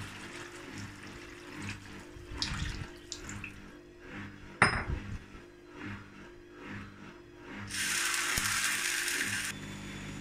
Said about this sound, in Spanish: Y ahora echamos 1 litro de agua caliente.